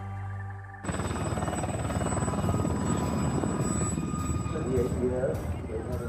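A helicopter from the British Army's Blue Eagles aerobatic display team flies overhead, its rotor making a continuous, dense, pulsing roar that lasts for several seconds.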